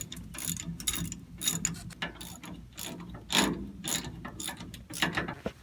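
A hand ratchet tightens 18mm brake bolts on a truck's rear brake assembly, making rapid close-up clicking bursts in uneven strokes with short pauses between them.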